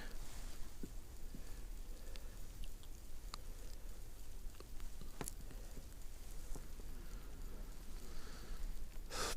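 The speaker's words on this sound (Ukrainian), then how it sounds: "Плюсова температура, ось і дощ пішов" Light rain patters steadily and softly outdoors during winter perch fishing, with scattered individual drops ticking against a surface over a constant hiss of background noise.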